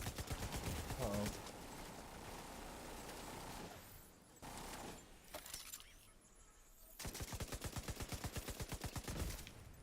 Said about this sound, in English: It's got a machine gun.